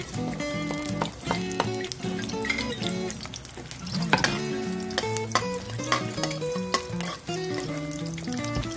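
Garlic dropped into a hot pan starts frying for a corn vegetable dish, with a steady crackling sizzle running throughout under strong tonal music, no voice present.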